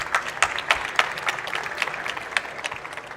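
An audience at an investor pitch event applauds a founder's pitch, steady dense clapping from a moderate-sized crowd throughout, fairly close and lively.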